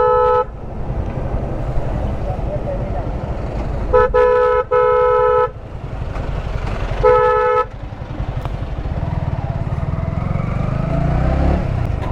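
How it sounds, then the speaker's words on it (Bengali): Heavy traffic jam on a street during a night ride, with several loud car horns honking in bursts over a constant rumble of idling cars and motorcycle engines close by. "সামনে তো পুরো রিপিট জ্যাম লেগে রয়েছে"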